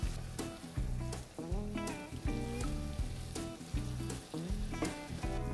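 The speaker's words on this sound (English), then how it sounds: "And now we're adding all of the special spice blend and toasting that up." A special spice blend toasting and sizzling in a pan for a vegan gumbo, a steady crackling fry with rhythmic scraping or stirring hits, close and alone.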